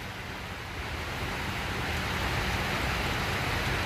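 Rain pours down over water while fishing, a broad continuous wash of noise that grows slightly louder, with no one speaking.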